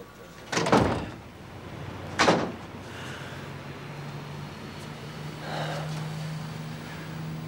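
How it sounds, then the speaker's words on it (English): A door closes in an indoor room with two sharp thuds, followed by a quiet low hum and faint background noise. "Ronnie, could you close that door?"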